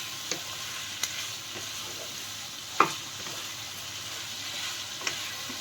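Vegetables for penny pasta sautéing in a pan over a high flame, a steady close sizzle with a few sharp clicks and scrapes of stirring scattered through it.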